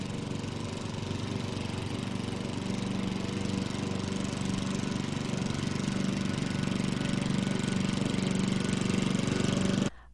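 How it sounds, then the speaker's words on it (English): A gas lawnmower engine drones steadily at a constant pitch for about ten seconds, loud and unbroken, then cuts off abruptly. "A gas lawnmower 31 meters or 100 feet away will create a sound level of approximately 75 decibels."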